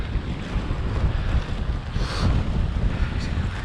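Strong wind blows across a coastal path by the sea, a steady, loud roar that buffets the microphone in uneven gusts with no clear speech.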